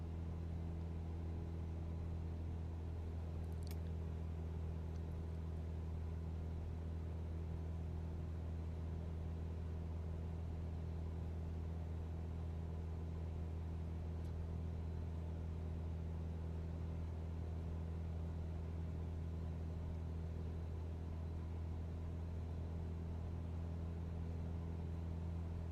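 A light aircraft's engine drones steadily in the flight sim Microsoft Flight Simulator 2020 after the throttle is eased back, a constant low hum with strong tonal bands, unchanging and alone for the whole stretch, with no talking.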